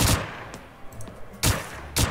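Gunshots in a shooting video game crack out in short, separate bursts: one at the start, a faint pop in the middle, then two sharp reports near the end against a quiet background.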